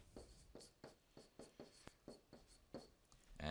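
Math is written by hand on a board or tablet, about a dozen quick scratchy pen strokes in an irregular rhythm, close and quiet, ending with a louder knock.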